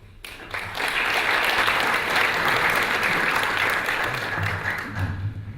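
Sustained applause from a conference audience welcoming a guest to the stage, a dense steady clapping that swells quickly and holds loud for several seconds before tapering slightly.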